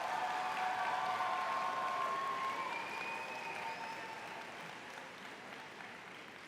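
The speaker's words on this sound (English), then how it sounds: "Please give another round of applause for these graduates." Graduation audience applauding for graduates at a high school ceremony, a steady wash of many hands clapping in a large hall, moderately distant and gradually tapering off, with a faint whistle.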